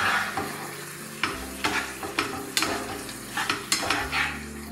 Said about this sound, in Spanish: Le pongo el pollo con todo su jugo y el tomate frito. Lo mezclo todo bien.